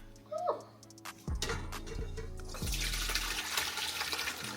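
Whey is poured off curds while mozzarella is being made at home in a kitchen, a splashing, gurgling liquid stream that builds into a steady rushing pour with a few clunks.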